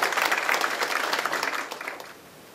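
An audience at a forum on restoring Bongcheoncheon as an ecological stream bursts into loud, close applause that tapers gradually as the clapping thins out.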